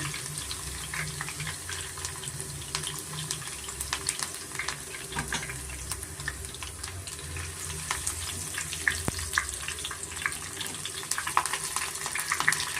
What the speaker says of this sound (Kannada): ಸ್ವಲ್ಪ ಕರಿಬೇವು ಮತ್ತು ಜೆಳ್ಳು ಬೆಳ್ಳುಳ್ಳಿನ ಸ್ವಲ್ಪ ಎಣ್ಣೆನಲ್ಲಿ ನೋಡಿ ಫ್ರೈ ಮಾಡ್ಕೊತೀನಿ